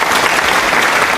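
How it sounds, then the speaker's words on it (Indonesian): A talk show audience claps in a dense, loud, continuous burst of applause, close and even, with no speech over it. "Kita kasih tepuk tangan."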